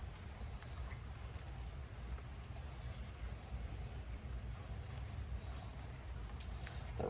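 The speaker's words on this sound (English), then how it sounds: "The rain is really starting to pick up." Steady rain falls outdoors during seed starting, a soft continuous patter and hiss with scattered drip ticks, fairly faint and even throughout, with no talking.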